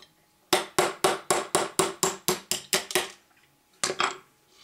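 A hammer taps a drift punch to knock a pin out of a High Standard Victor pistol lower receiver: ten quick, sharp metallic strikes in steady rhythm, a pause, then two more.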